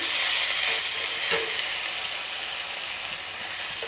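Boiled chickpeas tempered with curry leaves in hot oil: a loud, even hiss of frying that runs steadily throughout at close range, with one brief crackle and no voices.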